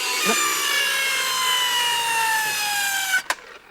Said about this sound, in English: This is the new magician's saw for sawing something up.